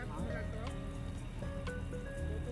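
Heavy rain falling outdoors in New Zealand, a steady, dense hiss that runs the whole time, with voices murmuring underneath.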